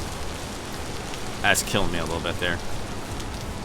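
Rain falls steadily in the Vintage Story video game, a constant hiss of drops. Someone talks briefly over it partway through.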